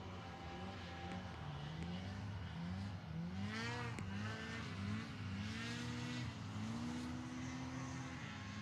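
Formula 1 powerboats racing on a lake at Towcester, a steady buzzing engine whine whose pitch rises and falls as the craft sweep past at a moderate distance.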